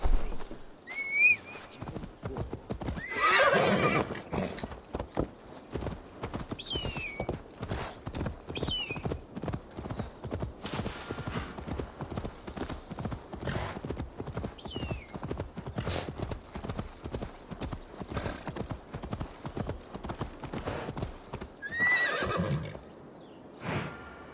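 Steady, rapid hoofbeats of a galloping eight-legged horse in Assassin's Creed Valhalla carry throughout, with a few sharp whinnies breaking in near the start and end.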